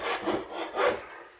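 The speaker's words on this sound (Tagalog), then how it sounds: "Manipis lang po yung plywood pero ang hirap lagariin." A hand saw cuts through thin plywood, giving two or three close, rasping back-and-forth strokes in quick succession.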